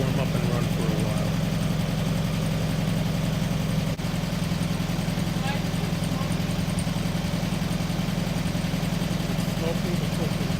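A VW Sunbug engine that has sat for about 30 years idles while warming up, a steady close rumbling drone that holds even from start to finish with no change in pace.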